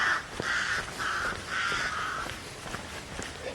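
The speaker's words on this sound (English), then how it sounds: "Crows are just repeating that." Crows caw outdoors on a late December day, four or five harsh, evenly spaced calls coming from a moderate distance over a faint steady background hum.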